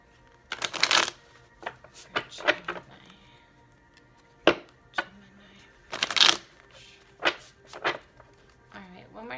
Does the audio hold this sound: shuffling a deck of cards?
yes